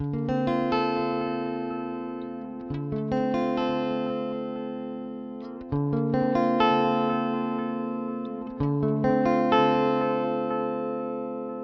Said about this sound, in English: Let's put that pedal in and let's give it a bit of that analog loveliness.